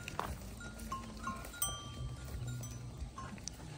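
Goats bleat a few times on a farm where pregnant does are close to giving birth. The calls are faint and short, set against a low, steady outdoor rumble.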